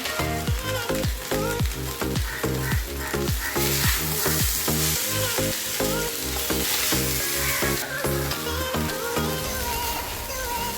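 Poha with lemon juice is sautéed and stirred in a pan, a steady close sizzle broken by regular rhythmic scrapes and clatters of the spoon against the pan, continuous and fairly loud throughout.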